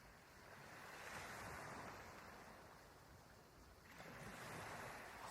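Ocean surf washing and rolling in steady, moderately loud swells, a broad continuous wash rising and falling alone without voices, with some wind noise.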